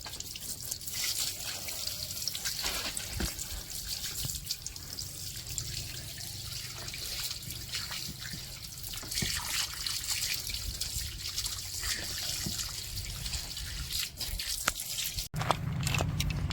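Water poured over a spray-painted car brake caliper, a continuous close trickling and dripping stream running for the whole stretch with no talk.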